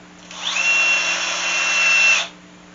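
Power drill driving number 8 screws into a wooden Salish loom frame with glued lap joints, one steady high whine lasting about two seconds, close and loud, with a brief spin-up and a sharp stop.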